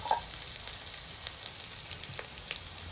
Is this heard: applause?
no